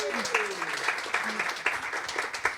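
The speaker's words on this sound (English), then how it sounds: "Can we get a round of applause for him?" A short round of applause from an audience at a talk honoring a guest, scattered claps over a low murmur of voices.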